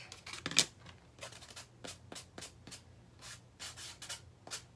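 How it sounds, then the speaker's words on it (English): Sandpaper rubs paint off an edge in short, separate scratchy strokes, quiet and close, with small pauses between passes. "the way my paint was on the edge, I want to just kind of sand that off just a little bit"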